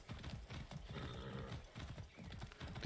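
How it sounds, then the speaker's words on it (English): Horse hooves clip-clop at a steady riding pace down a street in the Far Cry 6 video game, a faint, continuous rhythmic patter with no talking. "Riding a horse down the street."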